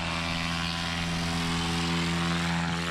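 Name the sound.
light aircraft taking off in EAA competition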